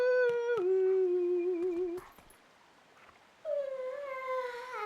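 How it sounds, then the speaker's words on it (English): A dog howling in Zelda: Twilight Princess, a long steady tonal howl that drops slightly in pitch, a short pause, then a second sustained howl, clear and close with no talk. "I got a dog. I got a magical dog."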